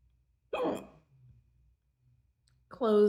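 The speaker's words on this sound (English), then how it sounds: "I like the way a closed mouth hiccup sounds actually." A closed-mouth hiccup comes as a short, sharp burst of vocal sound with a soft sighing tail, followed by near silence and then a second louder, voiced hiccup at the end, all close to the microphone.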